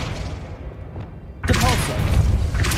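Flipendo spell cast in the video game Hogwarts Legacy: a sudden loud burst of magic whoosh and crackle after a quiet stretch, continuing in a dense rush of game effects to the end.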